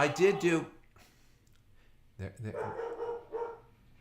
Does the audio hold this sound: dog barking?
yes